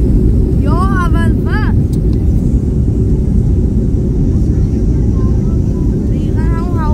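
A passenger airplane at Batumi International Airport gives off a loud, constant engine roar and rumble, with brief voices rising over it now and then.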